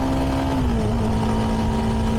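A CFMoto 300NK motorcycle engine holds a steady, loud buzzing drone at high revs, with a slight dip in pitch partway through and constant wind rush underneath.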